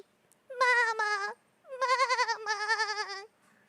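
Sheep in a video game bleat loudly and close by: three wavering, quavering calls, the first short and the next two longer, each standing alone against near silence.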